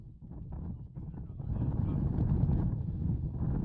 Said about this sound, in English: listen to how windy it is